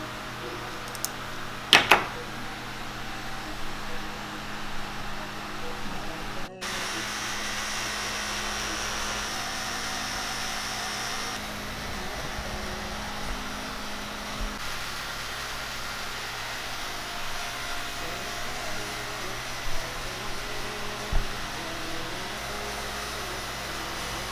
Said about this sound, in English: Pump's on.